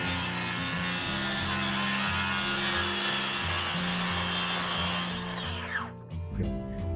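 A saw cuts through a custom countertop for a 4x4 ambulance camper conversion. A loud, close, continuous grinding cut runs for several seconds, then winds down and stops near the end.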